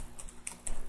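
A computer keyboard clicks under quick typing, with several sharp, close keystrokes in about a second.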